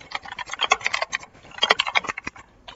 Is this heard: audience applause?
no